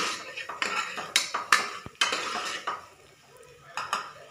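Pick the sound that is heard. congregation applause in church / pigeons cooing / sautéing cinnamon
sautéing cinnamon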